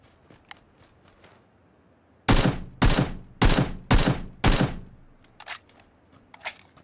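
Five loud, evenly spaced gunshots ring out in a rapid burst during a PUBG match, each a sharp crack with a short decay, followed by fainter distant shots and clicks.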